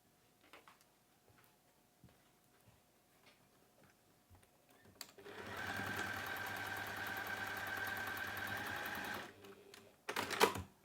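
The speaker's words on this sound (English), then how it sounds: "We're going to sew straight across there, and leave a turning through gap in the lining." A sewing machine stitching straight across a pouch lining runs in one steady, fast whirring burst of about four seconds after quiet handling noises, then stops, with a short clunk near the end.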